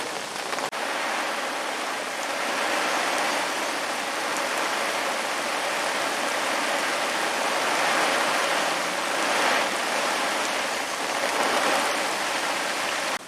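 Heavy rain falls steadily at Aspen Lake, a dense, loud, unbroken hiss of drops on surfaces lasting throughout with no voices.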